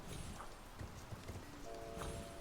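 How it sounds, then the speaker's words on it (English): Horse hooves clip-clop at a steady walking rhythm in a video game, faint and soft with light background noise. "this is a horse"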